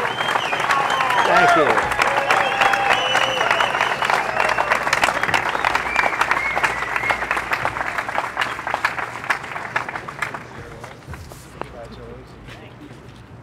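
Sustained applause from a ceremony crowd honoring a university figure at a street-naming event, loud and dense before thinning toward the end, with a voice speaking briefly over it.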